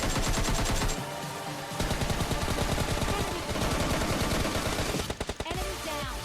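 Rapid automatic gunfire in a shooter video game fight against an enemy, dense continuous loud rattling bursts with a brief break near the end, no talking.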